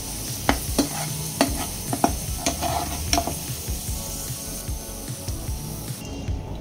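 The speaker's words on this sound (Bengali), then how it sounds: "নেড়ে চেড়ে গোল্ডেন করে ভেজে নেব" Onions fry in oil and are stirred until golden for a country-chicken curry. The sizzle is loud and constant, broken by repeated spatula scrapes and knocks in the first half.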